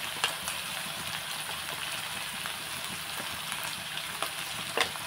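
Raw prawns and drumstick pieces, seasoned with chili powder and salt, fry in a pan with a steady, close sizzle and a few sharp pops and crackles throughout.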